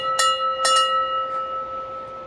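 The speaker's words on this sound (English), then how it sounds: "next to this landmark here, which I guess it's good luck to ring the bell" A landmark good-luck bell on the Ubara peninsula in Japan is struck about three times in quick succession outdoors, each strike ringing into a clear, sustained metallic tone that slowly fades against quiet surroundings.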